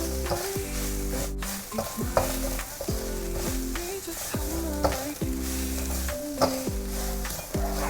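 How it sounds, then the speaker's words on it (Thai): Minced pork stir-fried with holy basil leaves in a hot pan, with a loud, continuous sizzle and rhythmic metallic scraping of the spatula against the pan, close up. "ต้องผัดจนใบกะเพราสุกเลยนะครับ"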